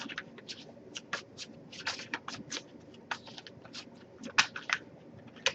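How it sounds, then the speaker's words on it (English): A tarot card deck being shuffled by hand in a quick, irregular series of crisp riffling snaps and soft slides, close and clear with no talk. "if I shuffle for a while and allow anything coming up"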